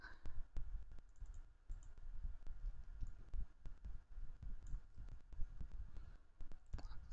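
Typing on a computer keyboard: steady, close clicking of keys running throughout at moderate volume, with no talk over it.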